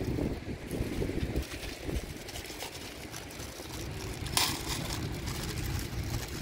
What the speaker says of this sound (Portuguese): E aqui tá ventando muito, muito, porque a gente tá na beira da praia aqui, né?